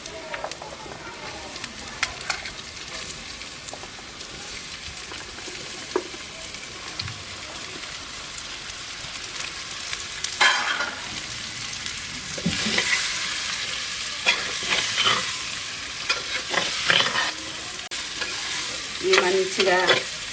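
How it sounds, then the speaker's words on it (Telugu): Pieces of cut bottle gourd frying in a pan with turmeric, giving a steady sizzle with intermittent scraping and stirring clatter from a spoon, fairly close and continuous. "ఆనకాయ కోసి పెట్టుకున్న ఆనకాయ ముక్కలు అయితే వేసుకుంటున్నా"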